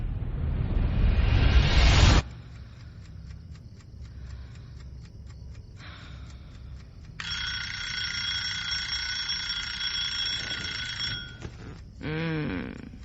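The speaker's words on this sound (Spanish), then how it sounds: "¿Para qué has puesto el despertador?" A ringing alarm clock goes off at night, a steady bright metallic tone sustained for several seconds between louder noisy stretches, fairly close and with no talking over it.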